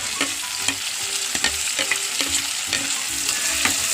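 Tomatoes and onions sauté with salt in a pan for a prawn roast, giving a steady close sizzle broken by repeated scraping stirs of the spatula, with no talking.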